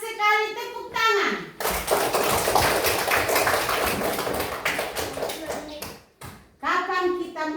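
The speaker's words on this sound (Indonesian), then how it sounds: "Tepat sekali, tepuk tangan." Children in a classroom clap their hands together in a dense burst of several seconds, with a voice speaking before and after the clapping.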